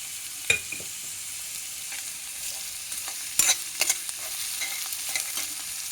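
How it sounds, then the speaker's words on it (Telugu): Onions with ginger-garlic paste frying in a pan for a beerakaya egg curry, a soft steady sizzle with a few sharp spoon-scrape stirring clicks, close and alone without talk. "ఉల్లిపాయలు వేగిందండి. ఇందులో అల్లం వెల్లుల్లి పేస్ట్ కూడా వేసాను."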